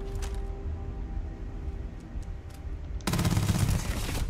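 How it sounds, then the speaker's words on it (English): Gunfire in the sci-fi game Starfield: a few scattered sharp shots over a steady background hum, then a sudden loud stretch of rapid automatic fire that continues to the end, with no talking. "I'm shooting him in the bunda, and he doesn't even know I'm here."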